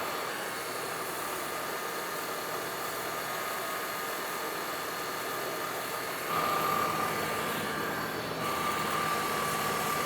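A 2002-2009 Chevrolet Trailblazer idles on level ground at normal operating temperature, a steady hissing engine drone with a faint whine, near and unbroken for the whole stretch, no voices.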